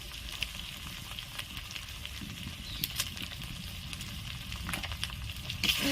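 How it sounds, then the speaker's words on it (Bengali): Chicken fries in a pan with turmeric, cumin powder and Kashmiri chili powder, giving a soft, continuous sizzle dotted with small crackles and occasional stirring scrapes, quiet and close. "এটি ভালো করে কষিয়ে নেব।"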